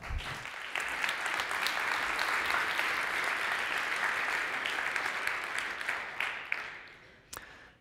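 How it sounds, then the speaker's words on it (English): Conference attendees at a Python programming talk give a big round of applause, a thick even clatter of many hands that holds steady for several seconds before tapering off, leaving a few isolated claps at the end. "Please, a big round of applause."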